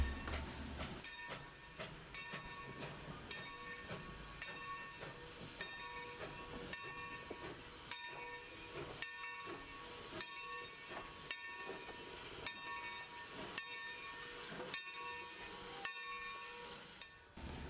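Tremont & Gulf steam locomotive No. 30 arrives at the station in Rusk on the Texas State Railroad, a steady rolling rail rumble with hissing steam and a brief whistle, heard up close and without talk throughout.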